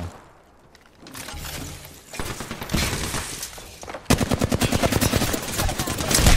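Rapid bursts of Flatline assault rifle fire in Apex Legends, loud and close, with several short volleys building into a long sustained automatic stream.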